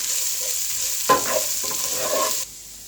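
Capsicum is stirred in a pan of frying garlic under a soft, steady sizzle. A few close scraping bursts of mixing come in the middle, then the sizzle quiets.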